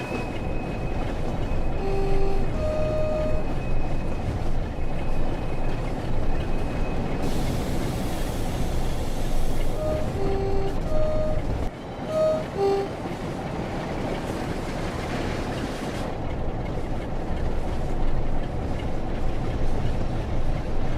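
Locomotive sounds from Train Sim World 6 on a 1980s West Coast military freight route, with a Class 87 in InterCity livery nearby: a steady, loud rail rumble with brief tonal horn-like notes and a short break midway.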